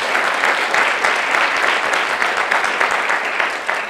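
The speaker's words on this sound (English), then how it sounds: "Laura deserves a round of applause in my opinion." Sustained loud clapping from a lecture audience at a teaching awards event, a dense even wash of applause throughout.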